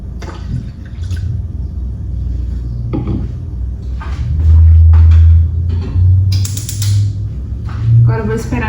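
Water is poured into a cooking pan that already holds milk and oil, heating toward a boil for pão de queijo dough. A steady splashing pour sits close to the mic over a low kitchen hum.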